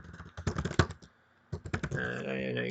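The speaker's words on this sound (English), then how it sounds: "I know you guys can hear the typing sound." Typing on a computer keyboard: rapid clattering keystrokes in dense bursts, pausing briefly before resuming, close and fairly loud with no talk.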